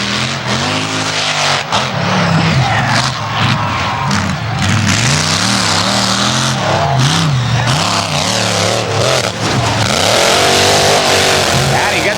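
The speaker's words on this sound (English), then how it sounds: "This is a 1979 Chevy S10." A 1979 Chevy S10 monster truck nicknamed Thunder Chicken revs loudly at a monster truck show, its engine note rising and falling with tire squeal and crowd noise, while an announcer talks over it.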